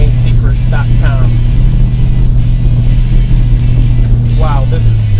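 A 1969 Plymouth Road Runner muscle car driving, its steady low engine drone running throughout with tire and road noise, while someone talks over it intermittently.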